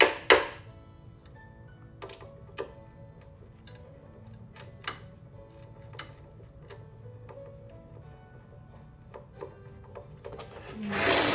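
Screws being driven into wood make a series of scattered creaks, ticks and rubbing clicks over a low hum, moderately close with no talking, rising to a louder burst at the very end.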